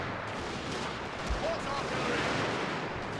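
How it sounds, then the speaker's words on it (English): Shrapnel shot from artillery in a Total War game set in the Anglo-Zulu War at Isandlwana, heard as a dense, rumbling battle roar with a low thump partway through and no clear separate shots. "fire shrapnel shot that way"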